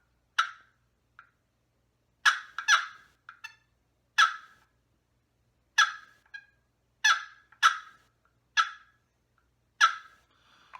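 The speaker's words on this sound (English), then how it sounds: "yelping on a box call is closing the lid." Turkey yelps worked on a wooden box call by closing the lid, heard as a series of close, sharp raspy yelp bursts in short clusters with quiet gaps, alone with no talking.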